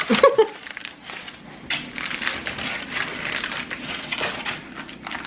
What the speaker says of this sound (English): And rip your foil.